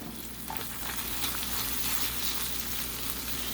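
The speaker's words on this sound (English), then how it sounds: "And then I'm going to add the mushrooms and onions back in. Mix that up." Ground beef with mushrooms and onions sizzling in a frying pan while being stirred, a steady close hiss and crackle with soft scraping of the utensil, no one talking.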